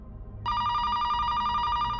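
A telephone rings with a steady electronic bell tone that starts abruptly and holds continuously, loud and close, with no talk over it.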